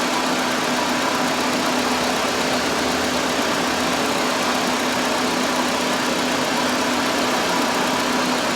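A car engine idles with its A/C compressor running, giving a loud, steady, unbroken hum and whir close by, with no talk over it.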